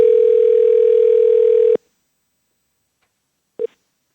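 A steady telephone dial tone rings out loud for under two seconds as a call is placed for a radio station contest, then cuts to silence before one brief tone blip.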